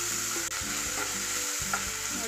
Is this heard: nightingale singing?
no